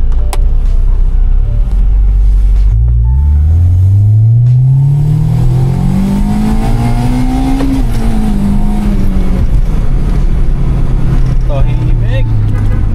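A 1999 Honda Civic SiR engine revs up on a test drive, the pitch climbing steadily through the gears with a loud rising whine, while people talk inside the car.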